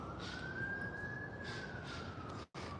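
A wailing siren rises and falls steadily in the distance, faint and continuous against a quiet background hiss.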